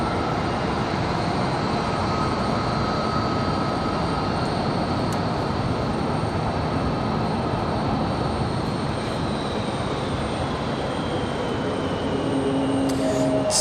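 JetBlue Airbus A220 jet at Raleigh-Durham airport, a loud steady broadband engine roar that holds throughout with a faint whine above it.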